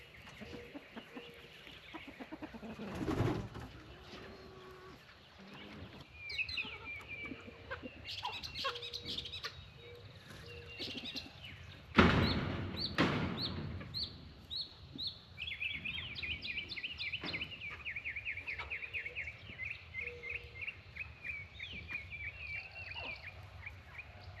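Farm chickens cluck and squawk continuously, with a rooster-like call and rising cackles layered over a busy outdoor background, several birds close by.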